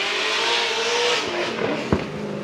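A Formula Drift car at the Wall 2019 qualifying downshifts mid-drift: a loud, sustained engine and tire roar with a sharp bark near the end as the revs drop and the car nearly stalls.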